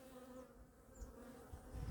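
A faint, steady drone of honeybees hovers around a relocated hive, with low handling thumps building toward the end.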